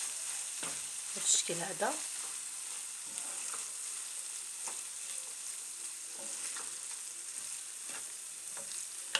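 Cooked pastry filling is being mixed with chopped parsley in a pan on a switched-off stove, giving soft scraping and stirring sounds under a steady low hiss, with a brief spoken remark near the start.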